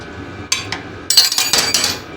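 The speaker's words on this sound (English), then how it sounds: "Let me drop that wrench 3 times because I can't feel my fingers" A wrench dropped in a workshop while fabricating a race throttle linkage, giving a bright metallic clank followed by a quick cluster of clattering bounces, close and fairly loud, with no talk.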